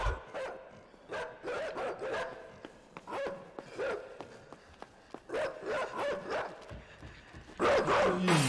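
Repeated dog barks in the video game INSIDE, played on PS4, come in uneven bursts through the clip, loud and close with a tense game backdrop and no talk.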